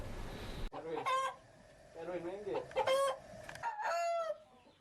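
Bangkok fighting chickens on a farm in Palembang crow and cluck several times at close range, with short bursts of calls overlapping. A brief stretch of broadband noise opens the sequence.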